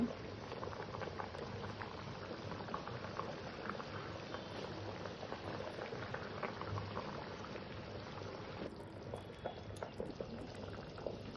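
Snakehead fish and potato curry boils in a covered pot, a soft, steady bubbling and burbling heard close and fairly faint, continuing without talk.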